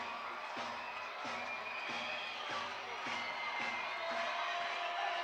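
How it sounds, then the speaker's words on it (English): A minor league baseball crowd at a Somerset Patriots versus Sugar Land Skeeters game claps in a steady, regular rhythm on a full two-strike count late in the game, distant claps repeating at even intervals over a soft crowd murmur. "The 2-strike clap will pick up here."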